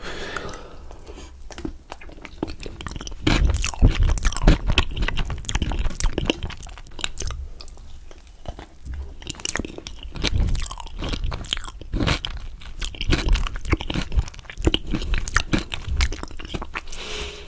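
Someone chews and bites into a trompe-l'oeil dessert with a runny, oozing peanut centre, making close, wet crunching and squishing sounds in steady bursts with no talking.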